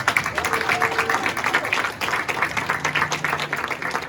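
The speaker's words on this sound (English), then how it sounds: "let's give them a round of applause." Steady applause from a crowd at a children's martial arts event, dense and continuous clapping with a few voices audible underneath.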